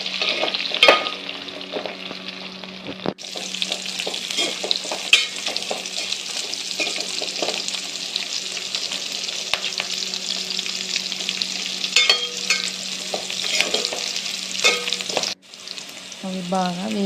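Onion pieces fry and get stirred in a pan with dried red chillies, a steady bright sizzle broken by scraping clicks and spoon knocks, dropping out briefly twice.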